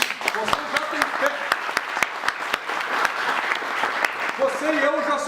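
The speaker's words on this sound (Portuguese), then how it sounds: "Parabéns, aplausos, parabéns." Applause from a church congregation with scattered sharp individual claps, steady and moderately loud, while a preacher's voice speaks over it.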